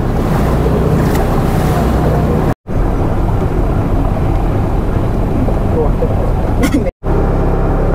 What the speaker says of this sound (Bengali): এবার স্পিড বোটটা চলে যাবে।